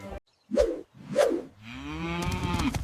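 A cow moos close by: two short, rough lows followed by a longer, drawn-out moo that rises and fades, loud and alone without talk.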